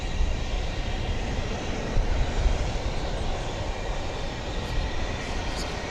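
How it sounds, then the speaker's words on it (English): An American Airlines Boeing 737-800 departing Dallas Fort Worth airport for Santa Ana, California, its engines a broad sustained rumble at moderate loudness, steady throughout with no talk. "That was American Flight 2114 off to Santa Ana, California, a 737-800."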